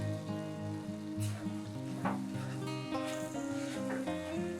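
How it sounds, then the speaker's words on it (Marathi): Flour roasting in melted butter in a pan for mushroom soup, a steady close sizzle with scraping stir strokes, under prominent background music with tonal lines throughout. "हा आपल्याला स्टर करत राहायचं आहे थोडस कलर चेंज असतोपर्यंत आपल्याला मैदा भाजून घ्यायचा आहे"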